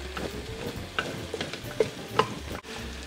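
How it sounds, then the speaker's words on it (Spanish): Vegetable meat is stirred in a hot pan, crackling and sizzling with intermittent scraping stirs and small clicks over a few seconds, close up, no talk. "Ahora llegó el momento que nosotros vamos a incorporar nuestra carne vegetal."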